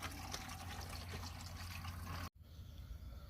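Black used engine oil drains from a Ford 8830 Powershift tractor in a steady, loud liquid pour that runs continuously, then cuts off abruptly and gives way to quieter ambient noise near the end.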